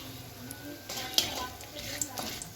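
Cardamom, cinnamon, cloves, a dry red chilli and a bay leaf sizzling in hot oil for a mutton curry, with a steady soft frying hiss, a few light clinks and scrapes of a spoon, close up.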